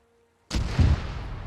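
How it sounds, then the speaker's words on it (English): A mortar firing in the video game ArmA 3: one sudden heavy boom breaks a near silence, then a rolling low rumble trails off slowly. "I can hear the mortars firing"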